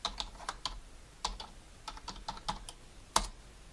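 Someone types on a computer keyboard while setting up Debian on a Mekotronics R58 Arm mini PC: a close, irregular run of crisp keystroke clicks in short bursts, ending with one sharper, louder key press, with no voices.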